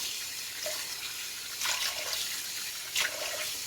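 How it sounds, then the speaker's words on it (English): Tap water running over a shaving soap puck being rinsed at a sink, a soft steady splashing flow with a few brief louder swishes, no voices. "Just rinsing my puck here."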